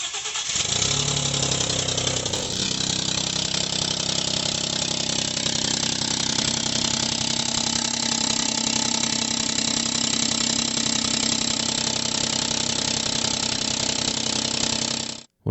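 A 2018-or-later Ford F150 2.7L engine with a broken EGR cooler inlet tube idles steadily after starting, a continuous close, loud mechanical drone with a fine ticking rattle running through it, no voices.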